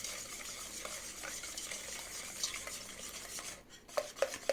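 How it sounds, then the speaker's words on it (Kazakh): A whisk or spoon stirs melted butter, salt, eggs and sugar in a bowl for cookie dough, giving a steady soft scraping swish, with a few sharper clinks against the bowl near the end. "ерітілген сары май, 1 шымшым тұз, 2 жұмыртқа және де қант қосамыз. Осының барлығын жақсылап араластырып аламыз."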